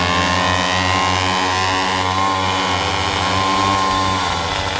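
A Mini GP motorcycle climbing the hill road to Hambalang, its small engine revving high and buzzy at full throttle, loud and close, holding a strained, steady whine throughout.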